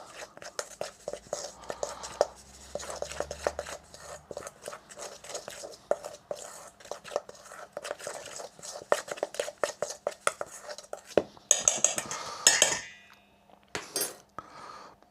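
Raw beef being mixed by hand with MSG, salt and white pepper for crispy chilli beef, producing close, wet squelching and slapping in a busy irregular rhythm with occasional clinks of bowl or utensil, no talking.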